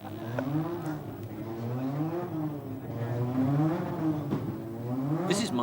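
A whining race car engine from the 3D Grand Prix video game on the Amstrad drones steadily, its pitch rising and falling as the car speeds, faint and alone.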